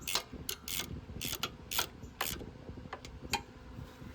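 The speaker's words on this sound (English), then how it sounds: "you can torque them down to 9 foot-pounds" Ratchet torque wrench tightening two 10mm bolts on a 2005 Honda engine during a timing chain tensioner replacement: a run of quick, close metallic ratchet clicks in short irregular bursts, with no talk.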